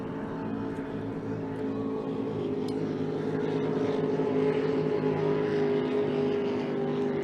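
Racing boat engines drone steadily throughout a Thanksgiving regatta, a constant distant hum that swells slightly toward the end with no talk over it.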